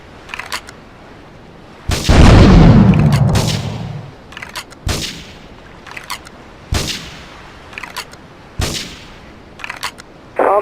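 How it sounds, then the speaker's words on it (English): Gunfire and explosions in GTA III around Portland Harbor: a loud blast with a rolling low rumble, then a series of sharp, evenly spaced shots, each ringing briefly before silence. "Investigate reports of gunfire and explosions."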